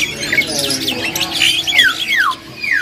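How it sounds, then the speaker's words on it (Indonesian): A white starling calls in a busy bird shop with repeated bright, downward-sweeping whistles over a dense backdrop of other chirping birds and a low, steady hum. "Jalak putih gacoran."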